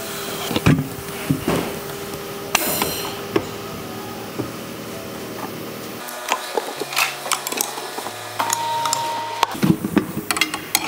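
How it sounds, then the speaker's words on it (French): A tyre changer machine mounting a tyre in a tyre shop, giving mechanical clatter, clicks and a few short tonal whirs, with repeated knocks and metallic taps throughout at close range. "Là c'est la machine à pneus et là directement je cale le pneu"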